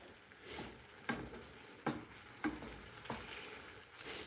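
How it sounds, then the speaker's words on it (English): Tomatoes sizzle and fry in a hot pan, a steady crackling hiss broken by a few sharper pops and stirring scrapes at close range, with no talking. "I just want it to sizzle for a while."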